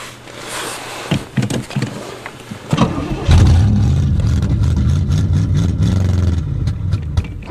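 A 1986 Pontiac engine without choke is started in winter, with a few clicks and cranking bursts before it catches and settles into a loud, rough running rumble close by.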